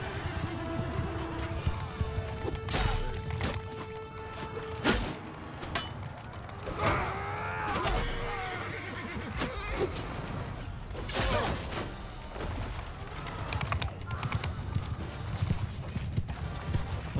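Horses charging across a Mount & Blade II: Bannerlord battlefield, with steady hoofbeat clatter under a dense din of clashing combat, creaks and shouts.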